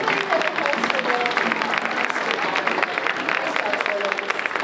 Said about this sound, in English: Let's give one more round of applause for our soloists